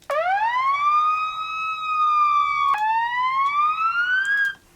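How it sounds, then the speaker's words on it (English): A synthesized police siren wails alone, loud and close, sweeping up to a sustained tone, dropping sharply, then climbing again before cutting off. "This siren is made out of the synth that I used in Snakebite VIP."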